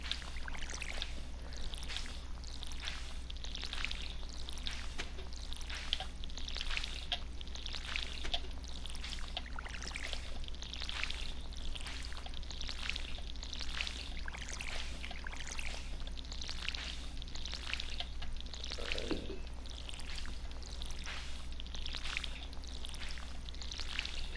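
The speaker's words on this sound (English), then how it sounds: "So we come in here and we water these plants here." Watering plants with a watering can in the Stardew Valley farming game: a steady stream of repeated splashy pouring bursts in a regular rhythm over a constant low hum, fairly loud and without talk.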